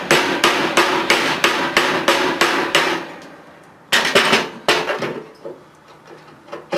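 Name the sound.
rawhide mallet hammering apart a church bell fitting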